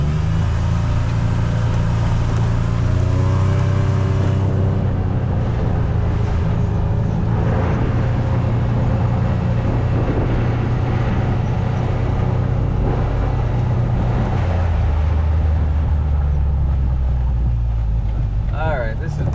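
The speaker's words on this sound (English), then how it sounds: "so we got this Gator outside and we're going to take it for a little rip here." A John Deere Gator 825i utility vehicle is driven outdoors, its engine droning loud and steady throughout with shifting rumble and wind noise, and someone talks over it now and then.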